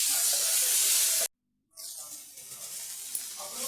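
Vegetables sautéing in a pan for an egg and veg puff filling give off a loud, steady sizzle, broken by a brief silence before the frying hiss resumes, with no talk over it.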